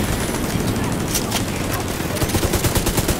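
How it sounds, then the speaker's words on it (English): Sustained automatic fire from a deployed turret in The Division 2, loud and dense, with rapid rhythmic bursts growing sharper toward the end amid ongoing combat noise. "might as well deploy a turret now"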